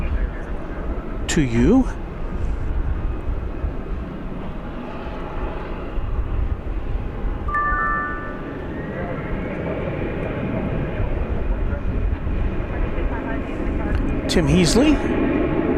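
A United airliner bound for San Francisco passes at a nighttime airport, its steady engine roar filling the background beneath continuous talk, with a brief rising whine near the start and end.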